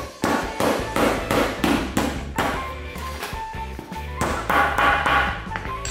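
Repeated hammer strikes drive a nail into a block of toilet paper pressed stone-hard in a hydraulic press, a string of sharp knocks in quick uneven rhythm, close by, with no speech.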